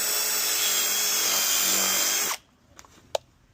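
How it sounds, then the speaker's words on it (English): Power drill fitted with a step bit boring through an air-conditioner panel, a loud continuous whirring grind that stops abruptly, followed by a few faint clicks and a sharp tap. "I'm just going to use a step bit on my drill."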